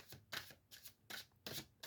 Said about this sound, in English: Even after shuffling.